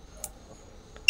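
A digital torque wrench answers a button press with a short, bright electronic beep at the very end, sharp and close after near silence and a faint earlier click.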